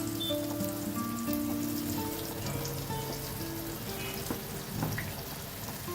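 Chopped raw banana pieces frying in hot oil with asafoetida and cumin, giving a steady, soft crackling sizzle with scattered pops, close and fairly quiet throughout, with no talking.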